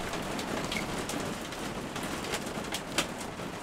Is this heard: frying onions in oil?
no